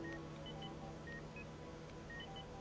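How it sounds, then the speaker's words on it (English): Telephone dialing tones from the control panel of a hospital operating theater: a quick sequence of short, faint keypad beeps over a low steady room hum. "you are able to make a phone call from the control panel"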